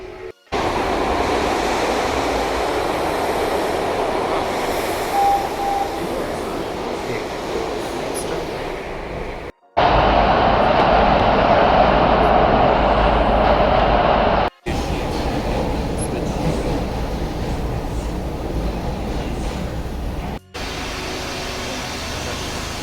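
SEPTA trains rumble and roar at a station during a commute, a loud, continuous mechanical wash in several long stretches separated by abrupt cuts, with no clear talk.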